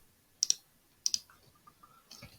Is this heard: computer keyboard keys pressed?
yes